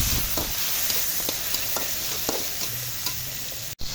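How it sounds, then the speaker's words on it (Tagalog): Tomatoes sautéing in a hot pan for adobong sitaw, a steady close sizzle with a few soft stirring scrapes and a brief knock near the end, no talk. "Kailangan mo nang gisahin yung kamatis."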